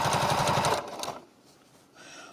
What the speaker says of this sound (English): I'm going to start with this 1/4 inch seam. Right, I'm going to sew.